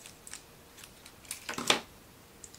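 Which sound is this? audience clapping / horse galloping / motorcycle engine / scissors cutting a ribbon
scissors cutting a ribbon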